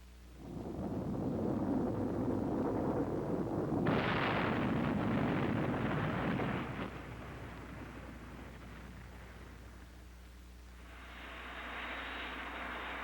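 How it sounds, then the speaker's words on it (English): A missile warhead detonation from a 1979 US Navy film on laser-fused weapons: a loud sustained blast roar that swells sharply around four seconds, rumbles on, then fades into a lower hiss. "Receivers in the fuse sense reflected laser energy from the target and detonate the warhead at a distance of maximum lethality."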